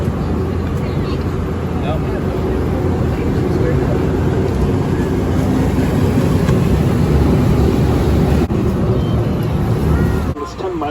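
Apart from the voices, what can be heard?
jet boat passing on the Wisconsin River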